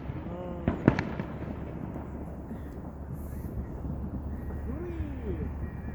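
A single firework goes off outdoors with a sharp crack near the start, followed by crackling and fizzing, over steady background rumble and the voices of people nearby.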